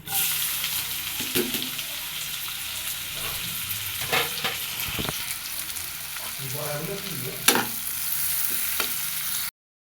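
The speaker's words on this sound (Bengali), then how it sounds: "আর এতে দিয়ে দিব পেঁয়াজ রসুন কুচি।" Chopped onion and garlic sizzling in hot oil after a spice tempering, a steady close frying hiss broken by scraping stirs and knocks of a utensil against the pan.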